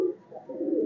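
Breeding pigeons coo softly nearby, a low, throaty murmur that rises and dips in a short, rolling phrase under a second long, with no talking over it.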